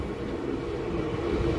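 Goods train hauled by a WDG4 diesel locomotive arriving at Maliya Miyana Junction, a steady low engine drone with continuous rumble, heard close and even throughout.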